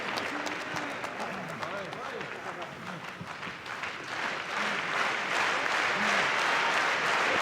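Wrestling arena crowd during a Shinsuke Nakamura match cheers and applauds steadily, a loud continuous roar with clapping that swells toward the end, with a commentator talking over it.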